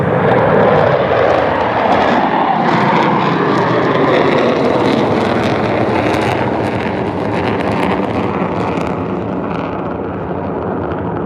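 Blue Angels jets flying in formation at an air show produce a loud, continuous roar that slowly shifts in pitch as they pass, with gusty wind noise over the microphone.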